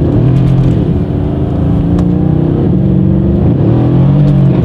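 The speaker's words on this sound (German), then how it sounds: "Jetzt geben wir mal Gas mit dem Kollegen hier." A Mercedes-AMG biturbo V8 revs loud and close, its deep engine drone holding steady and rising in pitch as it accelerates, with no talk over it.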